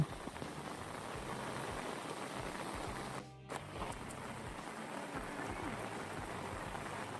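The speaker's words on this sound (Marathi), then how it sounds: "भरपूर पाऊस पड मित्रांनो" Heavy rain pours down steadily outdoors, a dense continuous hiss of drops on surfaces with a brief dip midway, no talk over it.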